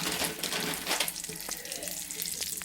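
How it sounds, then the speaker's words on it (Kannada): Vermicelli (shavige) frying in a pan for payasam, a steady broadband sizzle with a brief stirring swell near the start, close and continuous, no voices. "ನಾನು ಶಾವಿಗೆ ಕಂಪ್ಲೀಟಾಗಿ ಫ್ರೈ ಮಾಡಾಯಿತು"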